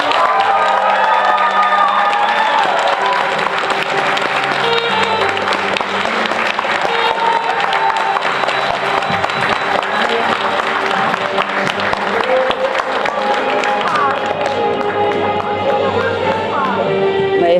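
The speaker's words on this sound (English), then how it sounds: "Thank you very much for your applause." A theatre audience applauds and cheers loudly and continuously, dense clapping with scattered shouts filling the hall throughout, with a little speech mixed in.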